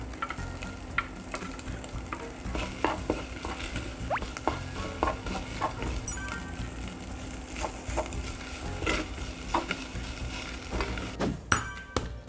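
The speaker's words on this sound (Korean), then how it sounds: "새우살이 하얗게 익기 시작하면 여기에 밥과 부추를 넣어서 볶아주세요." Shrimp, rice and chives stir-fried in a pan for a toddler's carrot fried-rice omelette, a steady close sizzle with scattered scraping stirs and a few sharp clinks near the end, no talking.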